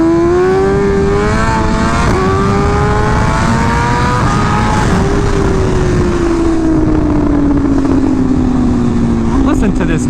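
A BMW M1000RR engine screams loudly and close, its pitch sliding through gear changes with a steady high whine. The engine stays dominant, with some wind or road roar underneath.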